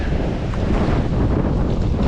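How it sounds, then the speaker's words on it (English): Strong wind buffets the microphone on a beach in Aruba, a loud, steady low roar with surf faintly mixed in, continuous for the whole stretch. "just look at the wind here"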